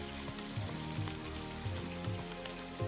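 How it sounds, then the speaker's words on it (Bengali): Pieces of chital fish fry in hot oil in a pan, giving a steady, close sizzle with soft crackling pops and no talk over it. "তেলটি গরম হয়ে গেলে তার মধ্যে এক এক করে মাছের টুকরোগুলোকে দিয়ে দেব তারপর কিছু সময় ভালোভাবে ভেজে নেব"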